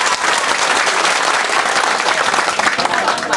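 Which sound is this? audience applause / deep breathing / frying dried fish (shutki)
audience applause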